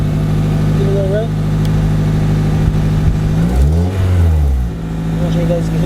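A Honda Civic Si EP3 with DC headers idles close by with a steady drone, then a single rev sweeps up and back down, with a voice speaking over the engine.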